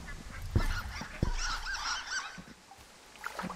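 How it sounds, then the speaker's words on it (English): Geese honk repeatedly in the Firewatch video game, a loud flurry of overlapping calls with a couple of sharp thumps, fading toward the end. "That noise is geese."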